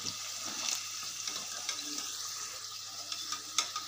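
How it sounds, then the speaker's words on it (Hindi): Potatoes fry in oil for dum aloo with a steady, soft sizzle and a few scattered stirring scrapes, faint and close, no voices. "अब हम इसको अच्छे से फ्राई करके लेते हैं।"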